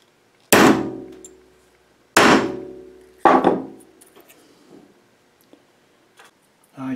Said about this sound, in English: And then a good hit, and then we flatten the rest,